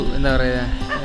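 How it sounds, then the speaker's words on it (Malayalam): A dog barking at night near a paddy field, a close, loud yelping bark blended with a voice speaking over it. "പട്ടി കുരയ്ക്കുന്നുണ്ട്."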